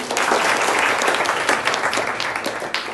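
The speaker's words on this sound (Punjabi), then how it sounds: "ਤਾੜੀਆਂ ਮਾਰੋ ਬਈ" Schoolchildren at a government high school in Punjab clap together in lively applause after a correct quiz answer, a loud, dense burst of many hands close by, sustained evenly throughout.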